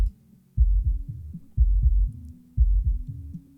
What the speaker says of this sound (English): you hear a very clean bass